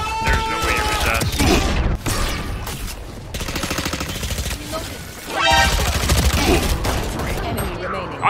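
Rapid gunfire from the shooter game Valorant, dense bursts of automatic shots running almost continuously, loud and close, with a brief lull near the middle before firing resumes.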